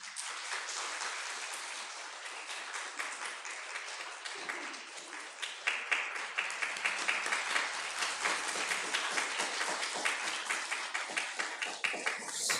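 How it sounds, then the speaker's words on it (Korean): A church congregation applauds during a Sunday morning service as an award is presented, steady dense clapping from many hands that grows slightly louder and more rhythmic toward the end. "부상 드릴 때도 손뼉해 주세요."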